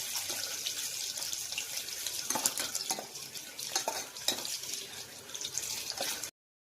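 Garlic and a bay leaf frying in a pan, stirred with a utensil that scrapes and clinks against the metal in irregular strokes over a steady sizzle, close and fairly loud.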